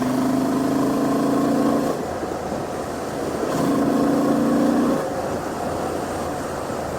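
A Honda XL750 Transalp motorcycle in sport mode, sixth gear at highway speed: the engine swells twice as the throttle is opened and closed, a droning tone rising over steady wind and road roar.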